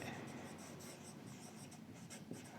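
Faint, steady scratching of handwriting on a board during an engineering lecture on reinforced concrete design, continuing as quiet strokes without speech.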